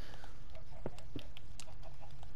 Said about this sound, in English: Oh, the chickens. Oh no, the noises.